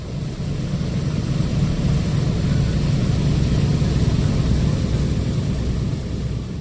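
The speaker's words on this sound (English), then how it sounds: "Aluminum Overcast taxis away," The B-17 bomber Aluminum Overcast taxis with its four radial piston engines running, a loud, steady, throbbing low drone that fills the whole stretch without talk.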